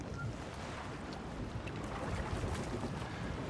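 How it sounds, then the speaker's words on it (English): A merchant sailing ship out at sea makes a steady, soft rush of wind and water. The wash is continuous and even, with no voices over it. "Why are we on a merchant ship?"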